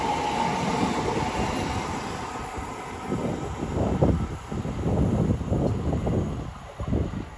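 A passenger train at Watford Junction on the West Coast Main Line rumbles past, led by locomotive 73010 with 73028 trailing, a loud steady roar with rhythmic wheel clatter building over the last few seconds.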